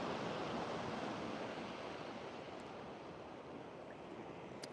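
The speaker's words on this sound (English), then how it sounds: "The waves look pretty good today as well." Ocean waves breaking late along the beach at La Caleta make a steady, broad wash of surf that holds at an even level throughout, with no voices.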